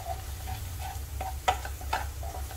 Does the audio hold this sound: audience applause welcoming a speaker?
no